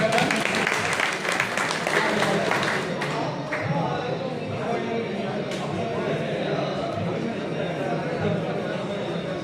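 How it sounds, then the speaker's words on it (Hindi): Applause from a gathering at an Engineers' Day celebration, a burst of clapping that is strongest at the start and then thins out under crowd chatter and nearby voices. "जोरदार ताली के साथ अभिनंदन।"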